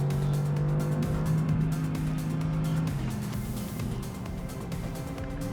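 An Audi R8 sports car cornering through tight bends, its engine note a steady, loud drone that holds a strong low tone and then shifts pitch partway through, with continuous road and tyre noise underneath.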